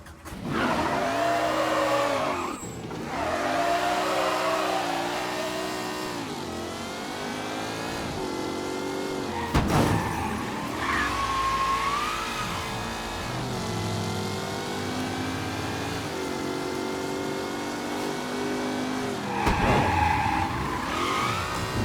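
A fast car in the video game Mafia III roars continuously, its engine revving up and down through gear changes with occasional tire squeals, loud and close throughout.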